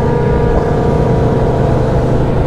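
A BMW S1000RR motorcycle engine droning through its exhaust, a loud, steady, buzzing run with a firm low rumble and no letup.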